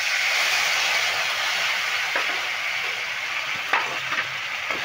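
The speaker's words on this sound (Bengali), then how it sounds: "এবার এই উপকরণগুলো আমি ভালো করে নেড়ে ভেজে নিচ্ছি।" Cumin seeds, ginger paste, turmeric and chilli paste fry in hot oil in a pan while being stirred, giving a steady broad sizzle with a few faint clinks of the spoon, and no one talks.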